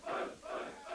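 A crowd roars and cheers in three swelling waves across a single second, loud and dense, with no single voice standing out.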